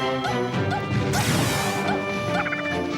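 Down smash attacks in Super Smash Bros. Melee land as loud smashing hits. One broad crash bursts out mid-clip over the game's background music.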